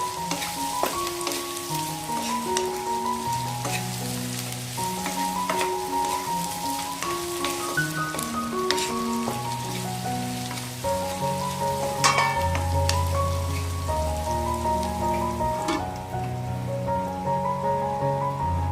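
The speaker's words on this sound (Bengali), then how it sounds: "আর এখন এটা ভালো মতো ভেজে নেব, ঢাকা দিয়ে আবার ভাজবো, তাতে কী হবে রসুনটাও তাড়াতাড়ি সেদ্ধ হয়ে যাবে।" Chicken and whole garlic cloves fry in a covered pan with a steady sizzle, while background music with sustained tones plays over it throughout.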